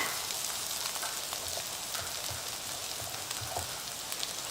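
Garlic frying in a pan during cooking, a steady broadband sizzle that holds at an even, moderate level throughout with faint crackles and no voices.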